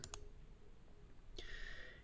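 A quiet computer mouse clicking, with a couple of sharp faint clicks near the start and another single click later, against a low hum in a quiet room.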